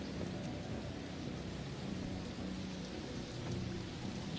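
Steady rainfall in the video game Detroit: Become Human, a dense even hiss of rain with a low rumble beneath, constant and moderately quiet with no voices.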